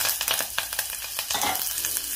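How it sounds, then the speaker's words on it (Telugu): A tempering of mustard seeds, cumin and dried red chilli crackles and sizzles in hot oil in a pan as curry leaves go in. The frying is close and busy, with quick pops throughout the brief moment. "పోపు వేగిపోయింది, ఇప్పుడు ఇందులో కరివేపాకు"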